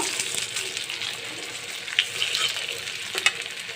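Pointed gourd pakoras fry in hot oil, a continuous close sizzle with bubbling and a few sharp clinks from stirring, no talking.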